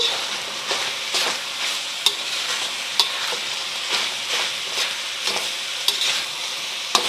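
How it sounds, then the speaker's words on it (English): Peas being stirred into beef frying in a pan for a Chinese-style saucy beef on rice, with a steady close sizzle and repeated scraping strokes of the spatula at an even rhythm. "you can just start mixing this around so that the peas cook through"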